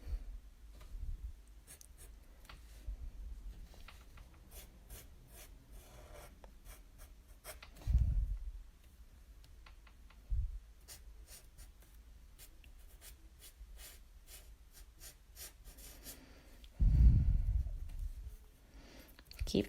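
Pencil on paper sketching the spikes of a bearded dragon, with quick soft scratchy strokes in short bursts and a few louder thumps, heard close and quiet.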